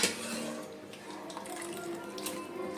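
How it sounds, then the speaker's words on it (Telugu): Water is poured into a cooking pot for mutton dum biryani, a soft continuous splashing and trickle close by with faint clinks of utensils. "ఇప్పుడు దీంట్లో అయితే నీళ్లు పోసుకుందాము"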